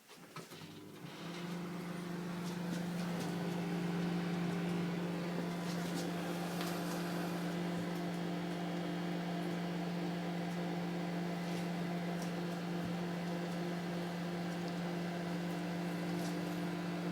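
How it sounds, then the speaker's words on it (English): A microwave oven running at full power while cooking a cake batter in a bowl, a steady low hum with fan whir that starts up and holds evenly throughout, fairly close and alone. "Then we put your bowl in the microwave and leave 3 minutes to full power."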